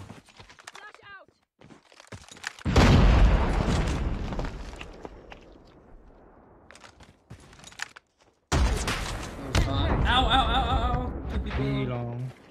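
A flashbang grenade goes off in Call of Duty: Mobile with a sudden loud broadband blast that rings and fades over several seconds. A second burst of game noise follows, and players' voices chatter underneath.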